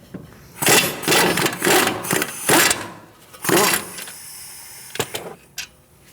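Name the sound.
removing Mercedes C300 caliper bolt with 18mm socket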